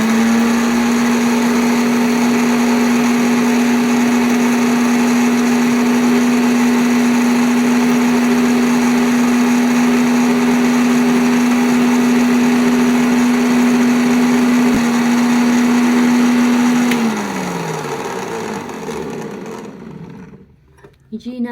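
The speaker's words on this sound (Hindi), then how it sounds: "ये मज़े का ग्राइंड हो रहा है, लेकिन हमें इससे थोड़ी देर और ग्राइंड करना है।" An electric mixer grinder crushing whole spices for garam masala whines at a steady, loud, close pitch for about seventeen seconds, then winds down as the motor switches off.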